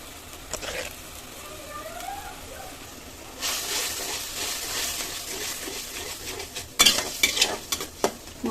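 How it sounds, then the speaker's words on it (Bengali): Ground coriander, cumin, chilli and turmeric sautéed in oil in a pan, a soft sizzle with stirring scrapes that grows louder midway, punctuated by a few sharp utensil clatters near the end. "মশলাগুলো এখন একটু ভালো করে কষিয়ে দেবো"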